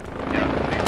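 A helicopter arriving for pickup in the SquadOps video game gives off a steady rotor drone and engine rumble through a short moment, ending in a brief louder burst.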